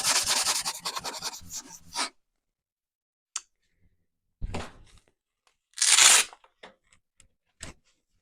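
Hand scuff sanding of a nightstand with 120 grit sandpaper: a dense run of rapid rasping strokes for two seconds, then scattered short scrapes and one longer harsh rub after a pause, close and fairly quiet.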